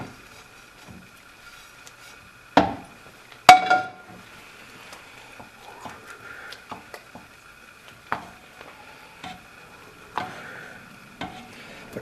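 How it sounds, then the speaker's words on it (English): A spoon stirring pecans into cranberry sauce in a pot with the heat off, giving scattered knocks and scrapes against the pot, a few sharper clacks among quieter shuffling. "Mix in the pecans."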